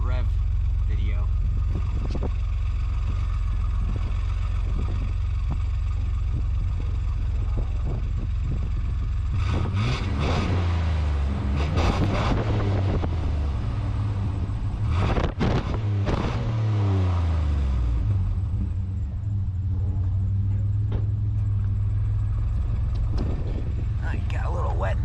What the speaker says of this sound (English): Obligatory, I have a new exhaust rev video.